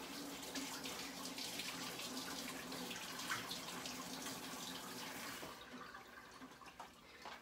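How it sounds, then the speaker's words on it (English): Hands are washed under a running kitchen sink tap, a steady faint splashing stream that tails off near the end as the water is shut off, with no talking. "Let me wash my hands, get all this pesto off of my hands."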